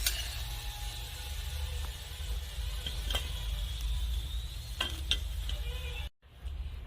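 Potato pieces fry in hot oil, a steady, close sizzle and crackle with a few stirring scrapes, running alone before cutting off abruptly near the end.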